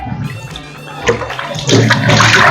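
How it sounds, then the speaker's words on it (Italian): Hot tap water running into a kitchen container while preparing salmon salami, a close gushing splash that grows louder and fuller toward the end, following some quieter handling noises. "via, acqua calda"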